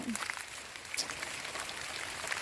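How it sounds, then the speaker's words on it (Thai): Rain falls outdoors during an evening mushroom hunt in Thailand, a soft, continuous patter with scattered nearby drips and faint background sounds. "ฝนตกค่ะพี่น้อง"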